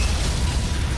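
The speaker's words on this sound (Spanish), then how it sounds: "Se produce una gran explosión y la parte trasera de la torreta B salta por los aires." Large explosion blowing apart the rear of turret B aboard the battleship Bismarck during battle; a dense, roaring blast fills the whole second with sustained broadband rumble and no pause.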